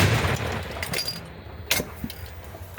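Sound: M119 howitzer artillery shot

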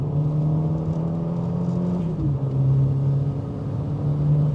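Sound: turbocharged Nissan K11 Micra engine revving

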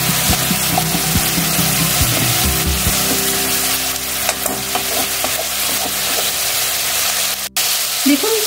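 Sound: sautéing hilsa curry in a pan

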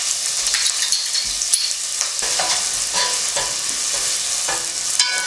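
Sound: onion frying in a pan

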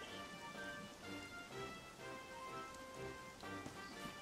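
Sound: rain in video game Dragon Quest XI

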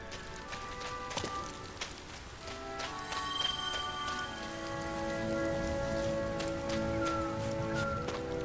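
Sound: rain in the video game Sky: Children of the Light

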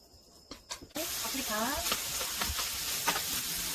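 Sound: meat frying in perilla oil in hot pan

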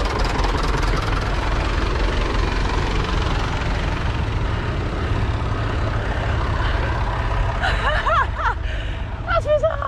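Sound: tractor engine

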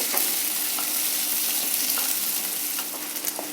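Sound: onions and fenugreek frying slowly on a low flame

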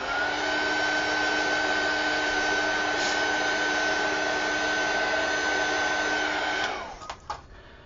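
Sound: heat tool drying a gessoed page

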